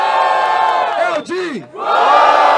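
Large crowd at a freestyle rap battle cheering and shouting loudly, a sustained roar that dips briefly and surges again, with a single voice rising above it.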